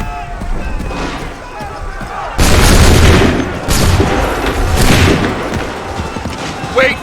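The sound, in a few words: musket volley gunfire in the video game Assassin's Creed 3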